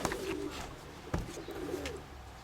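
Pigeon cooing in a loft, a soft low coo with some rustling and a sharp knock amid faint background noise, no talk.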